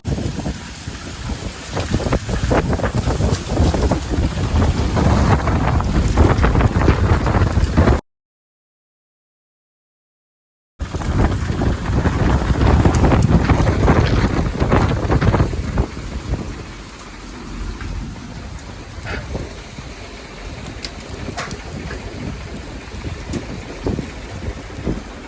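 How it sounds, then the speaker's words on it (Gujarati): Strong gusting wind roars across a farm field during a heavy rainstorm, a loud, close, buffeting rush on the microphone that cuts out briefly and then returns, easing somewhat toward the end with no voices. "તો મિત્રો ફૂલ પવન આવે છે અટાણે, ઉડાડી નાખે એવો."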